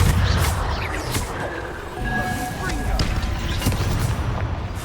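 Booming blasts from the Confringo fire spell in Hogwarts Legacy erupt repeatedly amid game combat, with a voice shouting spell names over the rumbling explosions.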